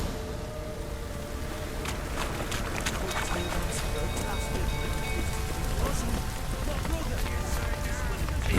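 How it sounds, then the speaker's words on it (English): Steady, dense rain falls in the video game The Witcher 3: Wild Hunt, a continuous patter with scattered sharper drops, with tonal game sounds layered over it. "Looks like rain"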